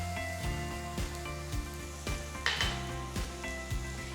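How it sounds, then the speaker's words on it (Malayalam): Garlic, onion, ginger and green chili sauté in a pan with a steady close sizzle, broken by regular scraping and tapping strokes of a spatula, with no talking. "ഇതെല്ലാം കൂടെ നന്നായിട്ട് സോട്ട് ചെയ്യുക."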